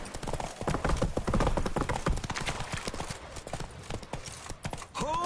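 Hoofbeats of the horse Roach pound in a rapid gallop during a race, loud and close, thinning out near the end as a brief high whistling tone rises.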